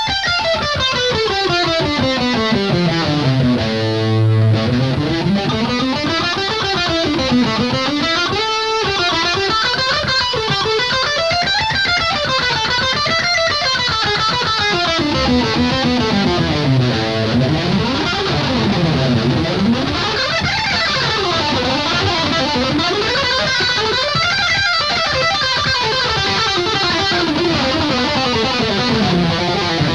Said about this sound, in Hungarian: amit most hallottatok, az végül is egy egyszerű A-mol skála volt, egy természetes mol skála